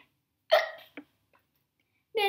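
A person imitates a hiccup with a voice, a short vocal hiccup followed by a smaller catch, then a brief bit of speech after a pause.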